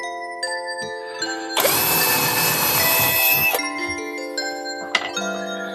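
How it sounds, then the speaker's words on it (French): A drill boring 4 mm holes into wooden boards, heard as one loud, sustained whirring burst of about two seconds set among quieter tonal background sounds. "Donc là, je perce à 4."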